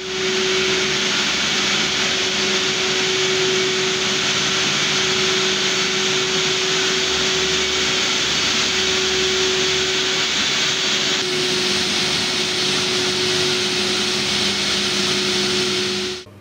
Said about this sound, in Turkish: Ekipler camilerdeki temizlik çalışmalarında makine yardımıyla halıları ve şadırvanları yıkıyor.